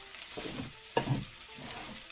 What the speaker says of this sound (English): And then just stir everything together.